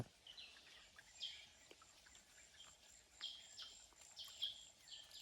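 Birds sing among trees at an abandoned mine, giving repeated faint, high chirps and short phrases at a distance, scattered across a quiet outdoor background.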